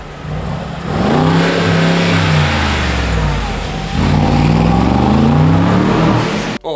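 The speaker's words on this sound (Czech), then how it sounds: "Tady máte teda zatím jedno Gčko, což je vlastně Mercedes upravený na Brabus" A Brabus-tuned Mercedes G-Class revs its engine up and down in two loud, rising and falling sweeps close by, with a brief cut at the very end.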